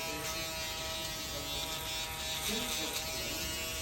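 Electric hair clipper buzzing steadily and close throughout a low fade haircut, held lightly without pressing, with a continuous high motor whine.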